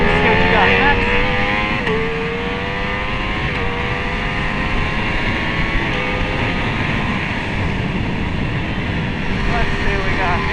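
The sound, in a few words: Ducati Streetfighter V4 S motorcycle engine revving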